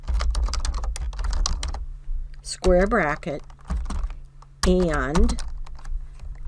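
Rapid computer keyboard typing clatters close by at a steady pace, with a voice speaking at intervals over the keystrokes.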